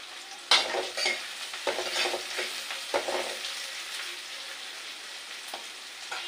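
Thinly sliced potatoes and onions sauté in a pan with a continuous close sizzle, while a spatula stirs and scrapes in irregular strokes and a sharp clink sounds near the start.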